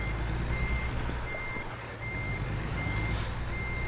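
A Peterbilt 567 truck in American Truck Simulator reverses, its backup alarm beeping steadily and evenly over a low, constant engine rumble.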